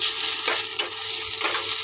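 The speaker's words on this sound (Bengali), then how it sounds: "থোর ভাজাটা বসিয়ে দিয়েছি" Banana stem fries in a pan with a mustard seed tempering and green chillies. It gives a constant close sizzle, broken by a few scraping stirs.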